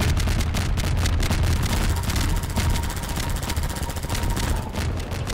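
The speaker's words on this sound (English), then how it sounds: "When it's about to die, it starts dropping bombs like crazy." Enemy gunship helicopter in Half-Life 2 dropping bombs during a chaotic fight, heard as dense rapid bursts of loud crackling gunfire-like blasts and explosions, continuous and close.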